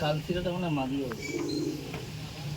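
Giribaz pigeons of Pakistani line coo in a close, rolling rhythm while someone talks over them.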